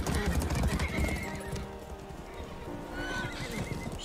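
Horses neigh and whinny with clip-clopping hooves in a Game of Thrones scene, loud and busy at first, then fading under quieter background sound while people talk over it.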